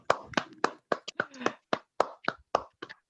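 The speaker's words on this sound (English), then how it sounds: "we will take also a picture during this applause" Claps ring out at a conference closing ceremony in a sparse, uneven rhythm of about a dozen distinct sharp hand claps, close and isolated rather than a full ovation.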